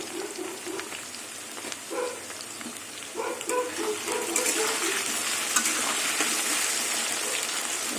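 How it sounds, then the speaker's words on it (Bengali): Steady sizzling of potatoes frying in a covered pan, with occasional soft stirring clinks and scrapes, fairly close and continuous. "ঢেকে ঢেকে আলুটা ভেজে নিলে আলুগুলো সেদ্ধ হয়ে যাবে"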